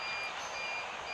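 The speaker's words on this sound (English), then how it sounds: "Sorry for that beeping noise." A failing emergency power supply in a house during a power outage beeps with a steady, fairly loud electronic tone that holds through the short moment.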